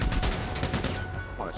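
Gunfire in GTA 5 online adversary mode: a quick burst of several close shots in rapid succession, loud against ongoing game noise.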